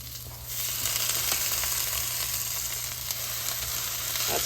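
Pasta tumbling into a hot pan for Philly cheesesteak spaghetti, setting off a steady close sizzle and frying hiss that holds for several seconds with no talk.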